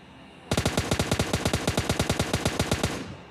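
Automatic gunfire in a shooting video game rattles off as one loud, rapid burst of about twenty evenly spaced shots lasting roughly two and a half seconds, close and sharp after a quiet start.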